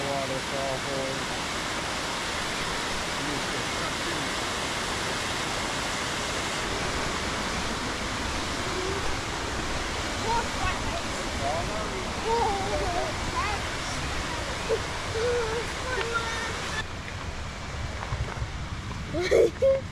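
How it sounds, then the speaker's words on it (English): A steady, broad roar of waterfalls in the Delaware Water Gap, New Jersey, fills the air without letup, with people talking faintly underneath. "Look at all these waterfalls."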